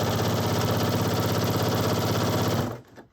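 Sewing machine running steadily while stitching a silk scarf hem, a close, even whirring buzz that holds for nearly three seconds before stopping abruptly.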